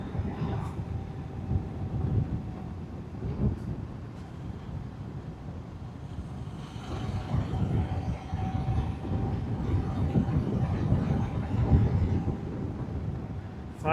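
A train rumbles past on the railway tracks beside a road in the Balkans, heard from a motorcycle. The low rolling clatter builds and stays steady, mixed with wind buffeting the microphone.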